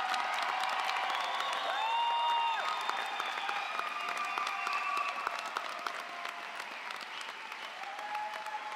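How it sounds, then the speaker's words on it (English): At a Physician Assistant class graduation, a large audience claps steadily and loudly throughout, a dense wash of applause with a few cheers mixed in. "Give our graduates one more round of applause."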